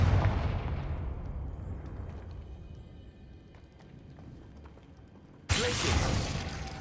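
A Confringo fire spell blast in Hogwarts Legacy: a loud fiery burst that decays over several seconds into a low rumble, then a second sharp, bright blast erupts abruptly and slowly fades.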